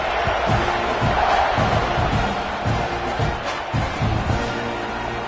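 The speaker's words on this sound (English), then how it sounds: "this crowd is buzzing after that last score" A football stadium crowd at an NCAA game buzzes loudly and steadily after a touchdown, a dense wash of cheering voices with no single speaker standing out.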